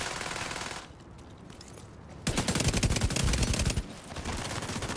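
Gunfire in The Division 2 video game comes as a rapid, loud burst of automatic shots lasting about a second and a half, with sparser shots and background game noise before and after.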